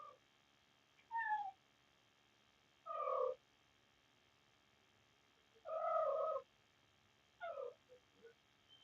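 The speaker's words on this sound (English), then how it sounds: "There ain't no cat food on the porch, Rocky." A cat on a porch meows four times at spaced intervals, clear and fairly close, with a quiet background between the calls.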